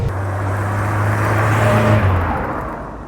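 A 1967 Vauxhall Cresta drives in third gear, its engine a loud, low droning hum that swells slightly and then eases, with road and wind rush around it and no speech.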